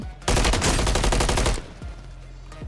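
Rapid automatic gunfire in Call of Duty: Warzone, a dense burst of close, loud shots lasting over a second, followed by a few sparser single reports as the fire trails off.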